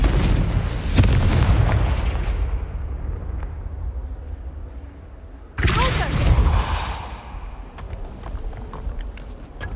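Fiery spell explosions in the Hogwarts Legacy video game: two heavy booming blasts with long rumbling tails, one at the start and a second sharp burst midway, loud and close.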